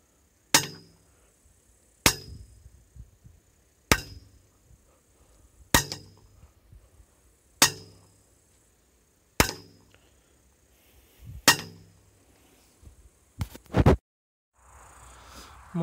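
A hammer strikes a driven well pipe being pounded into the ground, sharp metallic clangs spaced about two seconds apart with ringing decay, then a quick double blow near the end, no talking.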